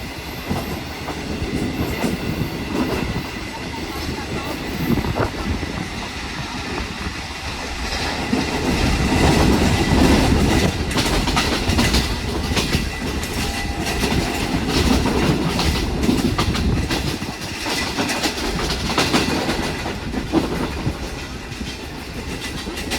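Pakistan Railways 13UP Awam Express with newly built CRRC economy-class coaches passing Mali railway station, a steady loud rumble with rhythmic clickety-clack of wheels over rail joints throughout, no voices.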